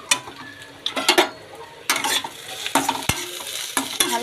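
Egg curry frying in a pan and being stirred with a spatula: irregular scraping and tapping knocks over a steady background sizzle, close and clear, with no talking.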